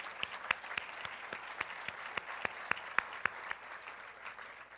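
An audience at a volunteer awards ceremony applauds steadily, with many hands clapping in a dense, even patter and some sharper individual claps standing out, heard from a little distance and fairly quiet.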